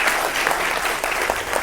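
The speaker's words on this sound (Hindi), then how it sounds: "जोरदार तालियों के साथ उनका स्वागत करें।" A studio audience applauds to welcome guests on a Hindi political news debate show, a short, thick burst of clapping heard on its own.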